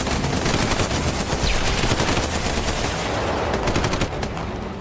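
Heavy sustained gunfire lays down cover in a battle scene, a dense continuous rattle of rapid shots that stays loud and close across the whole stretch, with no voices over it.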